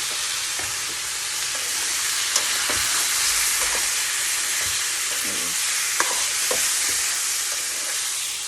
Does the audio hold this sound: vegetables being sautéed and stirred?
yes